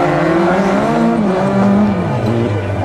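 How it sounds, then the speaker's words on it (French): Rally cars, a Citroën Saxo, Peugeot 206 RC and Honda Civic Type R, race past at a Laon motor event, engines loud and continuous with revving, shifting pitch and tire squeal, no talk. "Juménil, Coudin et Gilet sur Saxo 206 RC et Honda Civic Type R."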